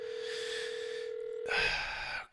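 A telephone ringback tone sounds during an outgoing call, a faint steady electronic hum that holds for about a second and a half before shifting into a brighter, noisier burst and cutting off.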